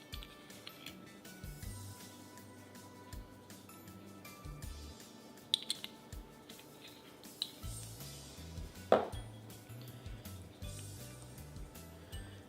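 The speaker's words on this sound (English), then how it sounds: "go ahead and stir in our cold cubed butter" Cold cubed butter and vanilla are stirred into homemade vanilla pudding in a pot. Soft, quiet squishing and scraping runs throughout, with occasional utensil clinks and one sharper knock near the end.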